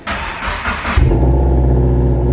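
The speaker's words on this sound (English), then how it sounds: "That's how a freaking WRX should sound, bro." A VB Subaru WRX with aftermarket headers and catback exhaust roars loudly, then drops into a deep, burbling exhaust rumble that holds steady at idle, close by.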